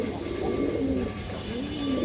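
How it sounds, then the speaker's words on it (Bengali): A large Pakistani Rampuri high flyer female pigeon coos in low, soft, repeated rolling calls, close by over a steady hum of other birds. "বড় সাইজের একটা রামপুরি মাদি কবুতর, হাই ফ্লায়ার রামপুরি মাদি কবুতর"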